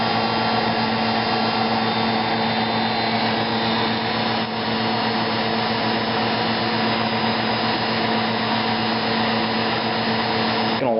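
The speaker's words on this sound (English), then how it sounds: "And I have a heat gun. Heat up the heat shrink tubing." A heat gun blows continuously and loudly while heating heat shrink tubing over wire connections during a 2004 Honda Civic radio install, a steady fan roar with no break.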